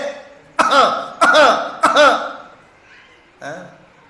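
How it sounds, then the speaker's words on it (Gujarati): Three harsh throat-clearing coughs in quick succession, then a pause and a softer fourth one, close and loud. "તમને ઉધરસ આવે છે?"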